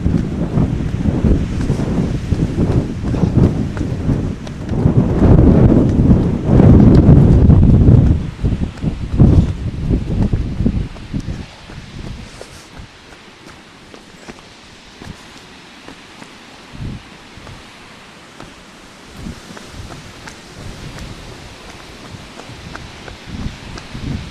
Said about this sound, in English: it really is blowing up quite a storm at the moment